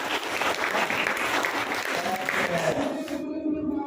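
A classroom of students claps for a classmate's answer, a lively burst of mixed hand claps that carries on for about three seconds and then stops abruptly, leaving only quiet room tone.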